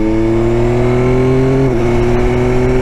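A 2021 Yamaha Tracer 9 GT's three-cylinder engine revs loud and close, a strong steady drone that dips briefly mid-way before climbing again, with no voices.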